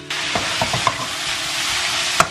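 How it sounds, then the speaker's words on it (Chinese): Cabbage stir-fried in a wok after the aromatics, steady sizzling with a few sharp spatula scrapes and clanks, ending in one loud metallic clatter; close and alone. "把包菜快速的给它翻炒一下。"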